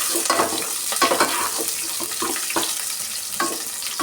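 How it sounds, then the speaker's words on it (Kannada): Mustard seeds, cumin, curry leaves, onion, garlic and dried red chillies frying in a pan for Kannada saaru, with a lively crackling sizzle and stirring scrapes in uneven bursts, close and fairly loud. "ಚೆನ್ನಾಗಿ ಕೆಂಪಿಗೆ ನಾವು ಫ್ರೈ ಮಾಡ್ಕೊಬೇಕು ಈ ಸಾರಿಗೆ."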